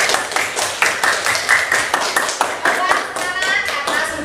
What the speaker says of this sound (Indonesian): yuk tepuk tangan dulu